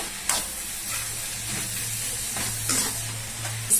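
Tomatoes sautéing in a pan for a fish kulambu and prawn curry, a steady broad sizzle with occasional soft stirring scrapes, close and continuous with no talking.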